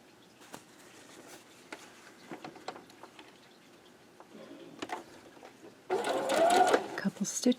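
A sewing machine chain piecing quilt block pieces, with soft scattered ticks and clicks, then a louder, steady burst of stitching near the end, under a quiet voice.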